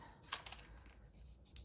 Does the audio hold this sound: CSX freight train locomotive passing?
no